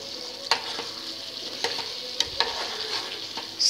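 Chopped vegetables and sausage sauté in a pan with oil, ginger, garlic, tomatoes, onions and eggplant, a continuous close sizzle punctuated by several sharp clacks of a utensil stirring.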